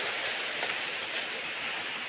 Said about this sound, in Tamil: மழையாக வந்துருக்குதுங்க.